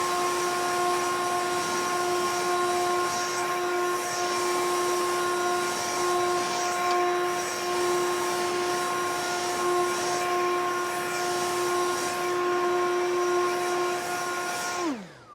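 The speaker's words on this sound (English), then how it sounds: "So we'll go ahead and blow that off. And I just so happen to have the M18 dual battery backpack blower right here." Milwaukee M18 dual battery backpack blower running steadily at close range with a strong whining drone, blowing off dirt, then spinning down abruptly at the end.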